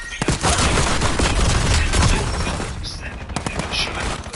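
Heavy gunfire in the video game Black Ops 7, a dense, loud barrage of rapid shots and bursts filling the whole moment, with someone talking over the shooting.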